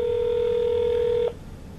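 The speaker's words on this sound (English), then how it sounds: "And it rings and rings and rings." Single steady electronic telephone ring tone heard over a speakerphone, loud and continuous for just over a second before cutting off abruptly into quiet line hiss.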